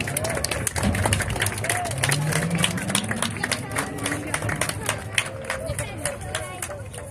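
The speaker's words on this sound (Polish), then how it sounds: "Dajcie mi wielkie brawa!" At a Rajd Nyski 2024 rally awards ceremony, a crowd claps in scattered bursts for several seconds, moderately loud and at a distance, with cheering and chatter mixed in and a voice speaking over it.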